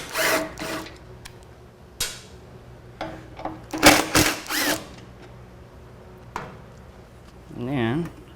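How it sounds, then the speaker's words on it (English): Bolts come out of a motorcycle fender during a drop seat kit install with hand tools: irregular metallic clinks, scrapes and short ratcheting bursts up close, then a brief voice near the end. "Now, go to the other side and remove the same bolts."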